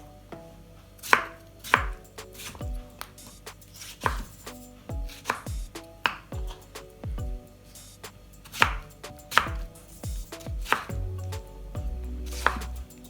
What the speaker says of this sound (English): So this is how I cut my tomato before I blend.